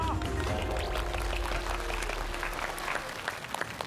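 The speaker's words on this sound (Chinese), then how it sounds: "鼓掌" A studio audience breaks into dense, sustained applause as a Guizhou goat hotpot is served, the clapping loud and continuous for a few seconds.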